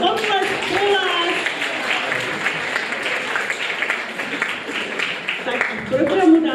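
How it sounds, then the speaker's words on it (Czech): An audience applauds steadily and loudly for several seconds, a dense patter of many hands clapping, with a voice talking over it. "Potlesk pro vás"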